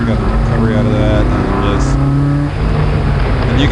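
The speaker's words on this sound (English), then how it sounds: "you can hear it coming through that finish line" A Nissan car at a regional SCCA autocross event accelerates hard through the finish line, its engine note climbing and sustained, heard loudly with a brief dip near the end, while a commentator talks over it.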